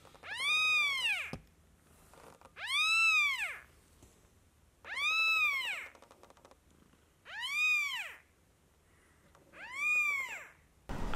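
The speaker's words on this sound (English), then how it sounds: "I didn't even know my cat was pregnant." A pregnant house cat meows five times, each a long, loud, drawn-out wail separated by pauses of about a second, close to the microphone in a quiet room.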